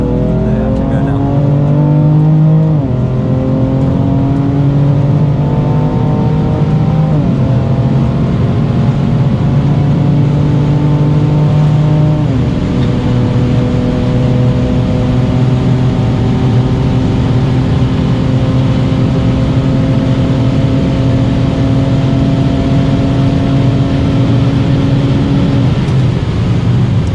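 Stage 3 BMW F90 M5 of about 900 wheel horsepower making a hard drag run at a VMAX 200 event, a loud, close engine howl rising through several gear changes and then holding a high, steady drone.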